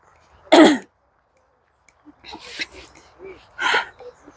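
A single sharp cough up close, followed by some quiet murmuring and another short throaty cough a few seconds later.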